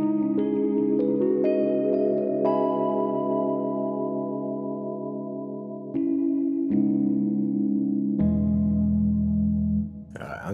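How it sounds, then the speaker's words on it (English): Sustained synth chords played into a Valhalla VintageVerb reverb plugin, each note change blooming into a long, washy tail that fills the gaps between chords at steady, loud volume. "I'm going to chuck a reverb on that as well, Valhalla Vintage Verb"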